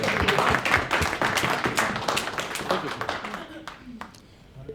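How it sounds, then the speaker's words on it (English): A room of people applauds Paul at a community meeting, a brisk round of clapping with talk mixed in that gradually thins and fades toward the end. "I think that deserves a round of applause."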